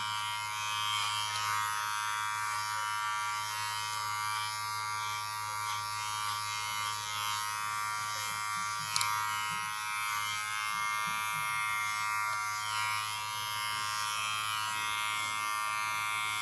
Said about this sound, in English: You can either clipper over comb, you're going to be lifting the hair up and going through